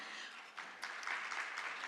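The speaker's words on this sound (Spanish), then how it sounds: "Vamos a recibir a esta invitada internacional con un fuerte aplauso, por favor." Applause from a conference audience welcoming an international guest speaker, a faint, dense patter of many hands that swells slightly partway through.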